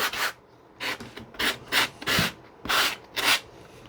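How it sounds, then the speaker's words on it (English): Sandpaper or a sanding block rubs across a small model jet part in seven short, rhythmic strokes, each a close, dry scratchy rasp separated by brief pauses. "little piece of sandpapers or a sanding block like this is perfect for this"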